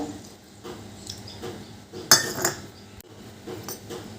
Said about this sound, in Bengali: এবার আমি এটা ভালো করে একটা গোলা তৈরি করব